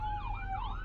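A Macedonia Fire Rescue vehicle's siren wails loudly and close, its pitch sweeping up and down in smooth repeated cycles with a low road rumble underneath.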